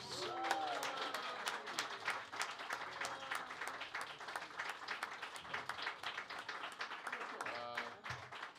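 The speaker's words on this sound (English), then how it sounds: "let's have a great big round of applause for Ms." A Harlem jazz audience gives a big round of applause for Ms. Valerie Capers. Scattered, fairly distant clapping runs steadily throughout, with voices calling out faintly beneath it.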